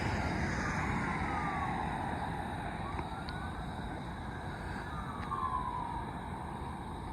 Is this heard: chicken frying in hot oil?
no